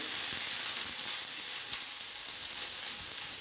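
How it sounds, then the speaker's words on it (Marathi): Onion frying in oil on a hot griddle gives a steady, bright sizzle with a few soft crackles, close and continuous, with no talking. "हे ताव्यावर थोडं तेल टाकलं याच्यामध्ये हा कांदा टाकायचा आहे"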